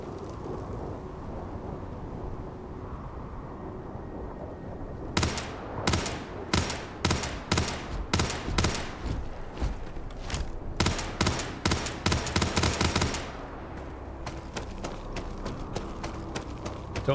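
Gunfire in Starfield, a rapid burst of sharp, loud shots in rhythmic clusters over roughly eight seconds, set against a low steady ambient hum that continues before and after the firing.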